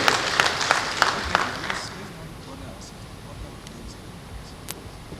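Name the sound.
applause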